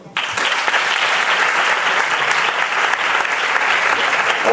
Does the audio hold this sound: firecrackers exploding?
no